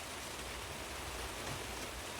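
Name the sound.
rain falling outside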